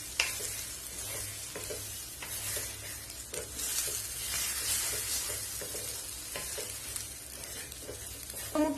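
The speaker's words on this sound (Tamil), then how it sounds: "முட்டை வந்து ஒரு பாதி அளவுக்கு வறுபட்டிருக்கு." Eggs frying in a pan for egg podimas, a continuous close sizzle broken by regular scraping strokes of a spatula stirring the mixture; no one speaks.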